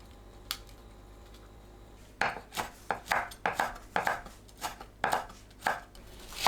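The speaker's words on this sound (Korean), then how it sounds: "건대추는 씨를 제거하고 채 썰어주세요." Pitted dried jujubes sliced into thin strips with a knife on a cutting board, a quiet start and then a steady series of about a dozen sharp, close chopping taps, no voices.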